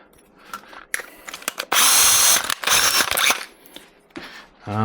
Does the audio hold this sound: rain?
no